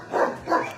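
Two soft, muffled barks or woofs from Goldilocks, a heavily pregnant dog, close by and evenly spaced, with a breathy, subdued quality.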